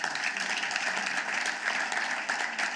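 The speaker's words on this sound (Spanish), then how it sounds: "Le da ese aplauso fuerte" Strong applause from a church congregation during a Friday evening service, steady dense clapping filling the whole stretch at an even level.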